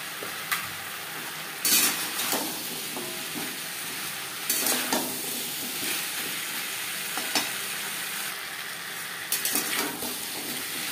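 Drumstick stems and potato with spices stirred in a pan for a vegetarian chorchori, giving a steady sizzle broken by several sharp scrapes and clatters of a spoon against the pan.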